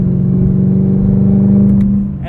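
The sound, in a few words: Chevrolet Camaro ZL1 1LE accelerating under full power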